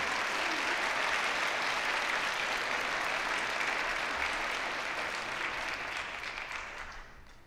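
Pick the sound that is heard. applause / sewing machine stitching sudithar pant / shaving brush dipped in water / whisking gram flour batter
applause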